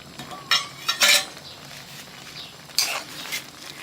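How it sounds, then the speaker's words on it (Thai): A utensil stirs lemon basil leaves into a pan of grilled fish curry over a gas flame: a few quiet scraping strokes and metallic clinks against the pan, with soft low sizzling between them and no voices. "คนพอให้ผักสลดนะคะ"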